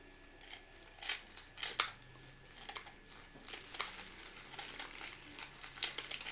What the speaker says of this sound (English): So just find the top, and we're gonna start cutting.